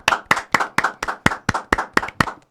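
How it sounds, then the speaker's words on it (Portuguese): Hands clap in a podcast studio to welcome guest Vegeta, a steady run of sharp, evenly spaced claps, close and loud, with no voices. "uma salva de palmas para o Vegeta!"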